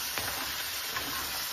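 Pork backbone pieces are turned and stirred with pepper in a sizzling pan, a steady close frying hiss with soft scraping motions underneath, brief and even in loudness, no voices.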